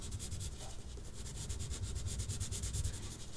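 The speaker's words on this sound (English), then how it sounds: "Now I'm not twisting the pencil at all, so I'm just using it, getting flatter and flatter." Pencil shading on paper for a portrait drawing, the pencil held flat: soft, close scratchy rubbing in quick, even back-and-forth strokes, faint and steady, with no talk.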